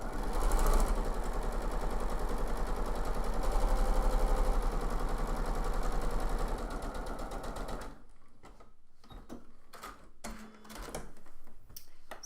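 Sewing machine stitching quilt squares for half square triangles, a steady loud rapid hum-and-clatter running continuously for about eight seconds, then stopping into quieter handling noises and short bumps.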